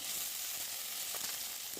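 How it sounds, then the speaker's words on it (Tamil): Chopped onions sautéing in a pan for fried rice, a soft, even sizzle heard close by, steady and fairly quiet, with a couple of faint stirring clicks and no voices. "கட் பண்ண வெங்காயம் வதங்கிட்டு இருக்கட்டும்"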